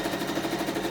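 A sewing machine stitches a handbag in a rapid, even run of mechanical clatter, close and fairly quiet, with no talking.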